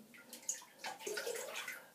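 A shaving brush with a synthetic knot is dipped into water, giving soft splashing, sloshing and dripping that is close and faint, with no voices.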